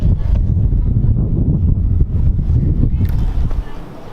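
Wind roars across the microphone atop the Castillo de San Marcos fort, a loud, close, continuous buffeting rumble that eases slightly near the end, with no clear talk.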